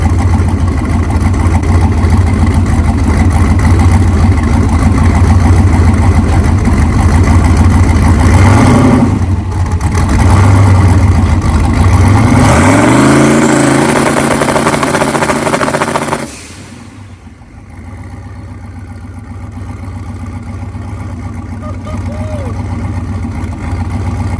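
A no-prep drag race car engine idles loudly, then revs up and holds around 3,500 RPM against the trans brake before dropping back to a lower idle near the end.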